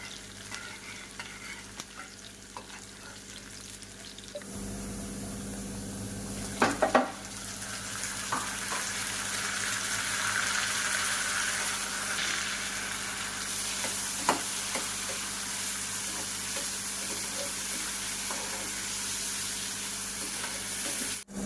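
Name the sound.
tempering spices (tadka) frying for dal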